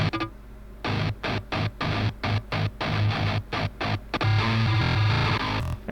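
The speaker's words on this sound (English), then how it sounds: "for the left guitar I wanted to use the trigger and pitch delay" Distorted metalcore guitar run through a trigger and pitch delay glitch plugin, chopped into rapid stuttering gated bursts with abrupt gaps, loud and alone.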